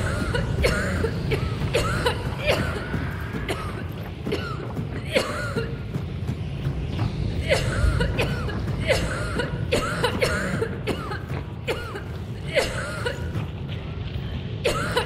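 A video game character coughs from choke gas, harsh coughs repeating steadily over and over at close range, with some faint talk underneath.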